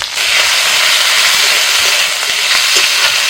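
Stems, chopped tomato and ginger paste go into a wok over cumin-tempered oil, erupting into a very loud, close, continuous roaring sizzle with crackling pops throughout.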